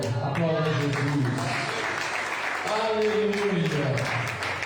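A church congregation applauds for Jesus during a Portuguese sermon on the resurrection, a steady wash of many hands clapping throughout, with a preacher's voice speaking over and through it.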